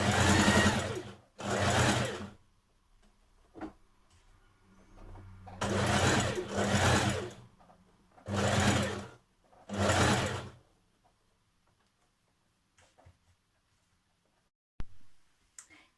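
A sewing machine runs a 1.5 cm seam allowance on a Simplicity 2247 dress, stitching in five close, steady bursts of a few seconds each, separated by pauses and faint clicks, with no talk over it.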